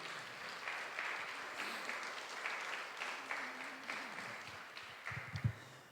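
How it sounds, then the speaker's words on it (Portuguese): Church congregation applauding during a sermon, a steady wash of clapping from many hands that swells and fades, with a few brief low thumps near the end. "Você pode aplaudir esse Deus por isso?"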